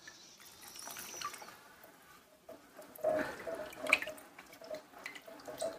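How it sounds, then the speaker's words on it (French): A car wash mitt is rubbed and swished in a water bucket fitted with a grit guard. Sloshing, dripping and soft scrubbing come in uneven splashes, fairly quiet and close, with a few sharper drips. "on va venir le frotter comme si on venait rincer son gant à la fin de son passage sur le panneau"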